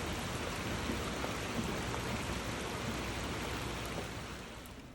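Steady rain falls at a marina on an evening, a dense even hiss with scattered drops close by, easing slightly toward the end, with no voices.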